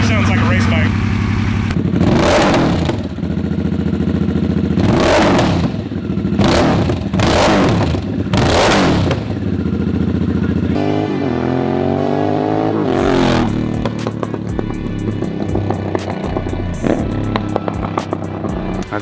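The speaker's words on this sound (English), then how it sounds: "Just straight up sounds like a race bike." Harley-Davidson Sportster S fitted with a Blockhead exhaust, revved hard in several loud, sharp bursts over a steady idle, then a rising and falling throttle sweep before settling back into a rumbling, clattery idle close by.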